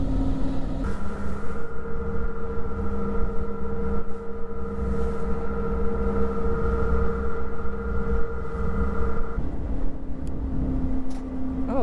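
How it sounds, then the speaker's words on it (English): Steady engine drone with a constant low hum and tonal whine aboard a short ferry crossing to Prince Edward County, Ontario, loud and continuous throughout, the tone shifting slightly near the end. "That's the little short ferry ride across onto Prince Edward County."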